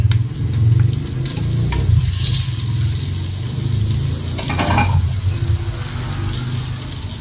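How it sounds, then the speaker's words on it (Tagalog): Shrimp hit hot liquid in a clay pot while a squash and long-bean dish cooks, giving a loud, continuous sizzle with stirring scrapes and bubbling, and no talking. "Next, lagay ko na ang mga hipon."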